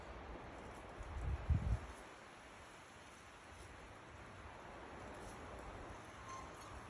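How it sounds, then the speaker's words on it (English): Soft, steady wind noise at night in snow rushes past with a brief louder gust buffeting low near the start, then settles into a faint, constant hiss. "It's very windy."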